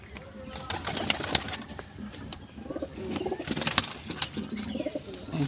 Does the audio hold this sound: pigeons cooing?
yes